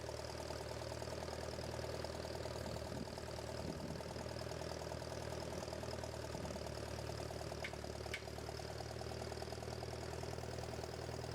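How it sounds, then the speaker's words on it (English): A tractor engine idles steadily with a low, even rumble and rhythmic knocking, with a brief metallic clink near the end. "Alrighty, loading the tractor on."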